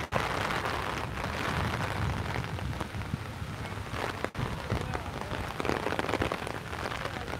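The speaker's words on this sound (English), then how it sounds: "It is raining pretty decently." Steady heavy rain pours outdoors near the White House in Washington DC as a storm approaches, a dense continuous hiss of drops hitting surfaces with no talking.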